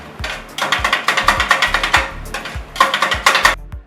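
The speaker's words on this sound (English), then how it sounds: "This is the sound of kothu." Kottu roti chopped on a griddle in Sri Lanka, metal blades striking the hot plate in rapid rhythmic clanging bursts, loud and close, with brief pauses between runs.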